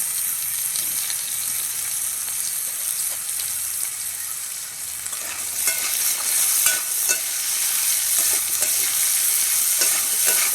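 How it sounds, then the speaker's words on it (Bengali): Cut potatoes with turmeric and salt fry in hot oil in a kadai, a steady loud sizzle with intermittent scraping and stirring strokes, no voices. "আলুগুলো ভাজা হয়ে গেছে এবার বাটিতে তুলে নেব"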